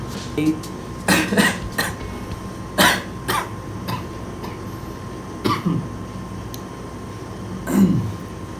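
Several coughs come in scattered bursts, fairly close, with quieter gaps and light background noise between them.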